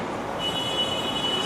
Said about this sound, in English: we came across a monorail